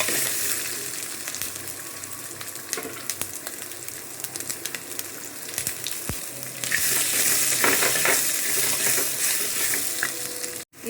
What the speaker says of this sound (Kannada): ಇದನ್ನು ಚೆನ್ನಾಗಿ ರೀತಿಯಾಗಿ ಫ್ರೈ ಮಾಡ್ಕೊಳ್ಳೋಣ